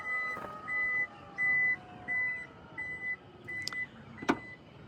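A Toyota Cross hybrid power tailgate closing: a row of short, evenly spaced electronic beeps over a low motor hum, ending in a sharp thud as the tailgate shuts.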